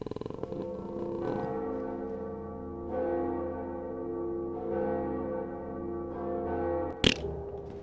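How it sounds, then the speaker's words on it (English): A bell rings in the Dark Souls video game, a few deep, resonant tolls with long ringing decays, loud and near, ending in a sharp metallic hit. "We're gonna ring a bell."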